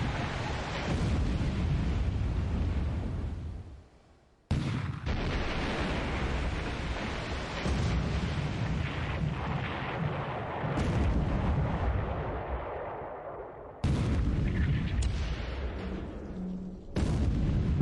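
A torpedo explodes below decks on a ship in a World War II naval video game, heavy booming blasts and roaring rumbles that break off and restart several times, loud and close, with no voices.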